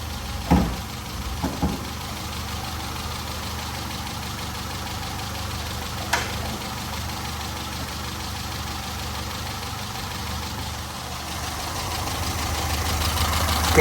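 Peugeot 207 Verve engine idling under the bonnet, a steady low rumble with a couple of brief knocks near the start and one around six seconds, holding even and growing slightly louder toward the end.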